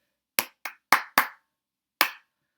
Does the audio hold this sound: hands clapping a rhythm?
yes